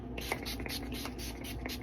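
A makeup setting spray bottle misting a face in quick, close pulses, about eight short hissing bursts in a steady rhythm over a low room hum.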